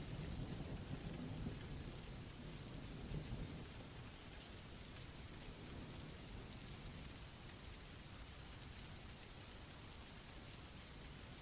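Steady rain pours down around a woodland cabin while rumbles of thunder roll through, heaviest in the opening seconds before settling into an even, continuous downpour with no voices.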